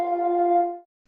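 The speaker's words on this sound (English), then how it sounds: "And then obviously there's that synth pluck" Unprocessed synth pluck from an Audio Imperia cinematic sample library, a single bright tonal note with strong harmonics that sustains evenly and then cuts off cleanly, alone with no talk.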